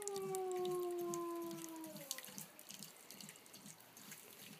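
Water trickling from holes into the edges of a partly filled tank, a light steady running sound with soft drips, while a dog howls in long falling tones nearby at the start.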